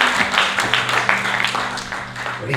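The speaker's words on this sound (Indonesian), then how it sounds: "Clap your hands and give God praise." A church congregation claps their hands in praise, a brief burst of clapping mixed with voices and a sustained musical tone underneath.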